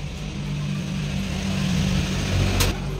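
Vehicles pass by on a busy road beside a small shop, a steady loud low rumble of engines and traffic throughout with a brief sharper swell near the end.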